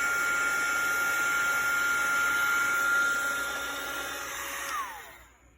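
A heat gun blows steadily at close range while melting embossing powder during heat embossing, a loud continuous whooshing whine that holds for several seconds and then winds down as it is switched off.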